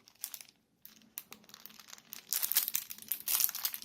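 Transparent plastic package holding a metal crocodile clip for multimeter test leads crinkles and crackles close by in uneven bursts, briefly pausing before growing louder and denser toward the end.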